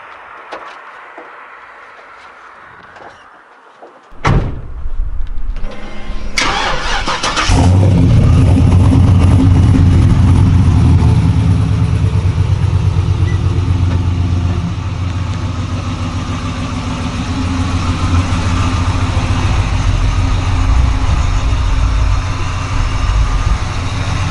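A supercharged, LS-swapped Chevy Chevelle starting up: a quiet stretch, a door thud, the starter and then the engine catching with a loud burst, settling into a heavy, steady, rumbling idle close by that lasts about twenty seconds.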